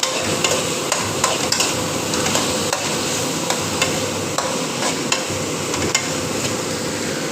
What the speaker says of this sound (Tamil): நல்லா கிண்டிகிட்டு இருக்கணும்.